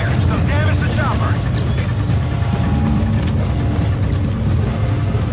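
A helicopter in the video game Metal Gear Solid V: Ground Zeroes thrums loud and close, its rotor and engine roar steady throughout, with voices heard over it.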